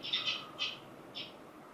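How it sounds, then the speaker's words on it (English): Songbird song reconstructed from a sleeping bird's vocal muscle activity: three short, bright, buzzy chirps in an uneven rhythm, faint against a soft hiss, with no talking. "So this is what the bird sounds like in its dreams."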